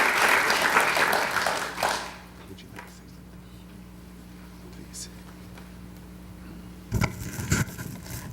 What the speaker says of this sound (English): So once again, give them a round of applause.